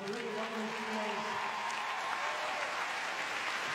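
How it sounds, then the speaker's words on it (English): Audience applause at a dressage World Cup final, a steady dense wash of clapping that holds evenly throughout without pause, with faint crowd murmur beneath it. "Let's hear a round of applause for the really wonderful teammates."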